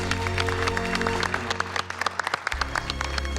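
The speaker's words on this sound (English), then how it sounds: "Please give a big round of applause to our very special guest, Colonel Hadfield." Studio audience on MasterChef Canada claps for special guest Colonel Hadfield, brisk applause with distinct individual claps over a low background hum that shifts partway through, no talking heard.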